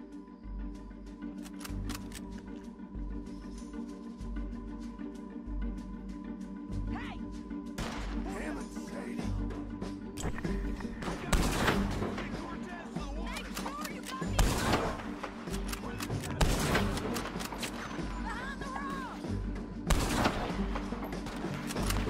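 Scattered gunshots crack through a Red Dead Redemption 2 bounty-hunting shootout, sharp reports spread irregularly over ambient game noise with voices talking in between.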